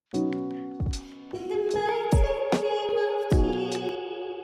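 A sung vocal line drenched in heavy concert-hall reverb set at full mix, notes blooming and lingering into a long wash; loud and close, with no talking.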